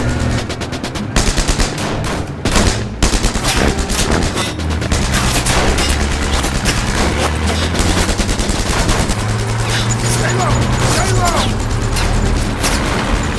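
Loud war gunfire, with sustained machine-gun bursts and scattered shots, opens on a jeep at a roadblock, continuous and close for the whole stretch and overlaid with other dense sound.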